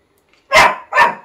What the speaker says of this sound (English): Oh, excuse me, dog, she's off again.